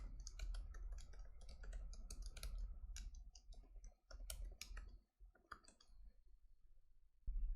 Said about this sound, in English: Gonna have to type this again.